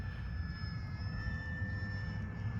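An E-Flite P-51 Mustang 1200 radio-controlled airplane flies overhead, its motor giving a steady, thin whine at a moderate distance over outdoor background noise.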